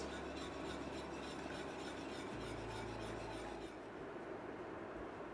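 A whisk rasps steadily against a pan as a cornstarch slurry is worked into caramel mirror glaze, a continuous quiet scraping with a low background hum.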